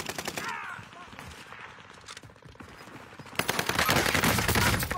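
Rapid bursts of gunfire from a video game shooter, sharp repeated cracks that intensify into a dense, loud barrage in the closing seconds, heard over quieter game ambience.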